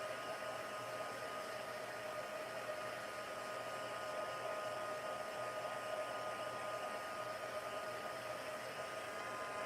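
A hair dryer blows steadily and close by for nearly ten seconds, drying a piece for a handmade 6x6 summer solstice card, with a constant broadband whoosh and no talking.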